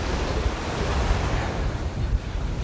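Sea waves breaking on Bagoush beach at Sidi Heneish, a continuous wash of surf mixed with gusty wind buffeting the microphone, loud and close, with no voices.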